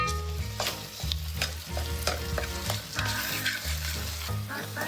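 Chopped tomato stirred into sizzling chicken curry, a continuous close sizzle with frequent spoon scrapes against the pan over a low steady hum, no talking.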